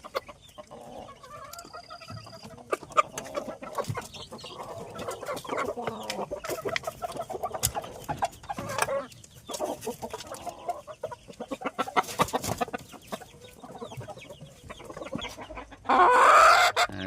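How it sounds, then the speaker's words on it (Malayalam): A mother hen near her chicks clucks and calls in a farmyard, a steady run of close, fairly loud clucks with a brief louder burst near the end. "ഈ കോഴി നല്ല കോഴി തുടങ്ങി കാറുന്നുണ്ട്"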